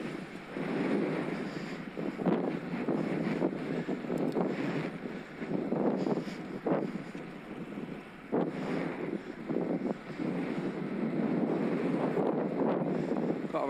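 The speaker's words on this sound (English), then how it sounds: "Got a right headwind." A strong headwind buffets the microphone of a cyclist climbing uphill, giving a continuous rushing, gusting roar close to the mic with no clear talk.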